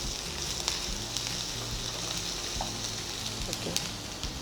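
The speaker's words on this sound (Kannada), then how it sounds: "ಇದೀಗ ಫ್ರೈ ಆಗ್ತಾ ಇದೆ" Vegetarian fish fry sizzles steadily in a pan, a dense, close, continuous crackle with occasional sharper pops and no pauses.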